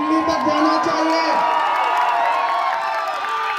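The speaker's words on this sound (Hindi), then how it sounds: "आपकी तालियों का शोर दिल्ली तक जाना चाहिए।" A large crowd at a Congress election rally in Dadra and Nagar Haveli claps and cheers loudly and continuously, with whoops and shouts rising over the roar.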